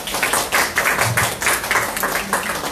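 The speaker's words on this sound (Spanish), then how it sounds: "La recibimos con fuertes aplausos, por favor." An audience claps in welcome for a speaker at a talk on skin physiology and wound healing, a short burst of brisk applause with irregular overlapping claps, moderately loud and close, no voices over it.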